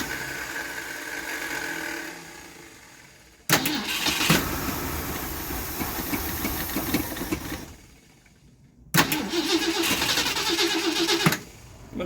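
A Mercury car engine is cranked twice, each time catching abruptly and running loud and rough for a few seconds, with quieter gaps between the attempts and no talk.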